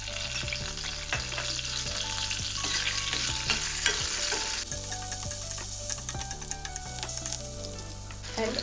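Onions and green chillies fry in hot oil with cumin powder and spice powder for a chicken curry, sizzling steadily while a spoon stirs and scrapes the pan in repeated knocks, with a low tonal hum running underneath and no voices.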